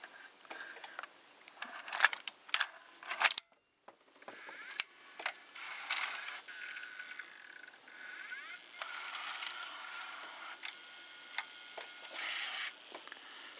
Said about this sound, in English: it's driving a worm gear that drives a gear on a shaft, and there's another worm gear